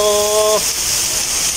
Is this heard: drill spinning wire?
no